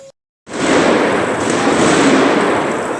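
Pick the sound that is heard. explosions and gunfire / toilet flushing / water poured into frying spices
explosions and gunfire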